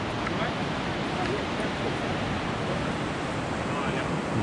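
Steady rushing of a river down below a rocky mountain trail on the way up to Namche, an even, constant wash of water noise with no break or speech.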